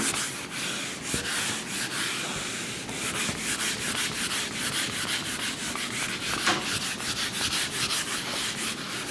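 Steady, continuous scrubbing of a board being wiped clean in a classroom, a dense rhythmic rubbing that runs close and unbroken, with no talking over it.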